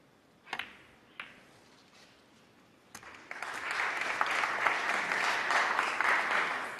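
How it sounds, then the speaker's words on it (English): Applause from a snooker crowd at the UK Championship, breaking out after a few sharp knocks and then sustained steadily through to the end, moderately loud and without talk. "Some applause from the crowd for that shot"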